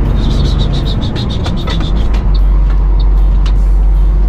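A new Volvo truck engine drones loud and close from inside the cab while driving, a heavy low rumble with a brief pneumatic hiss partway through and high chirps over it, with no talk.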